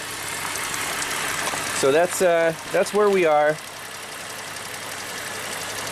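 A GM V6 engine idles steadily in the background, running smoothly, its stretched timing chains still quiet; someone speaks briefly over the low, even hum.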